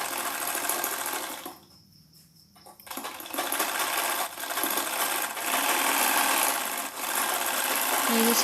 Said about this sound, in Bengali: এইখানে আমি সেলাই করে নিচ্ছি